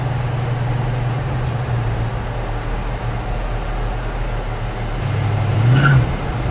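A 1965 Mustang Shelby with an Arning drop and export brace is driven slowly in reverse, giving a steady, fairly loud low engine drone that swells slightly near the end. No voices are heard.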